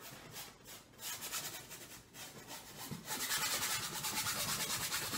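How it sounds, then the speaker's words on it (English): Close, faint rhythmic scratching as a stiff paintbrush scrubs a thin layer of paint onto a painting surface, the strokes quickening and growing louder partway through. "But you're basically scrubbing that in."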